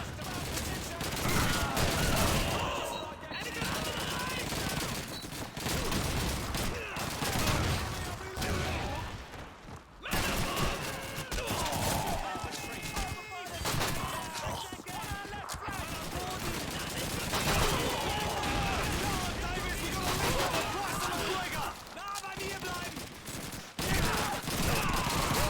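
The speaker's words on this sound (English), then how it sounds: "Just a billion grenades for some reason." Dense, continuous gunfire and repeated grenade explosions in Call of Duty 2, loud and relentless throughout with brief drops, a chaotic battlefield barrage.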